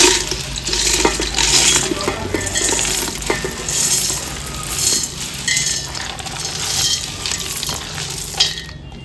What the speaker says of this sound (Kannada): ಎಲ್ಲವನ್ನು ಒಂದು ದೊಡ್ಡ ಪಾತ್ರೆಗೆ ಹಾಕಿ ಮಿಕ್ಸ್ ಮಾಡ್ಕೊಳ್ಳೋಣ